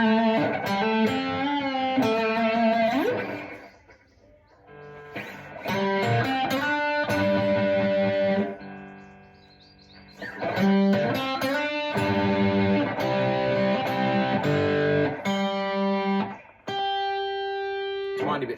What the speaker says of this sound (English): Let's put a bit of distortion on there.